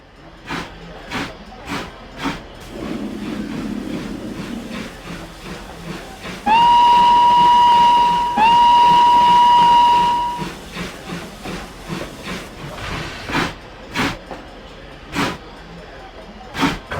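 A steam train hisses and chuffs, then blows two long, loud whistle blasts close by, followed by rhythmic puffing as it slows.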